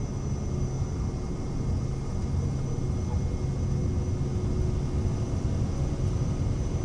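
Engine roar of a Cirrus Vision Jet taking off with flaps up in a flight simulator, a loud steady rumbling drone with a thin high whine, continuous throughout.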